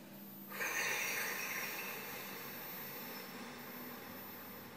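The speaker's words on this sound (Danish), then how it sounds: "prøver du at puste ud" A slow, steady exhalation in a guided breathing exercise: a single long, soft rush of breath that swells quickly and then fades gradually over several seconds, close and quiet, heard alone.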